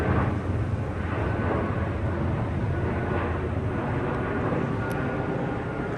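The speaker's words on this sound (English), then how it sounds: "Oh, there's an aeroplane." Airplane passing overhead above a city street in Yokohama, a steady broadband roar that fills the whole stretch evenly, with faint street ambience around it and no talk.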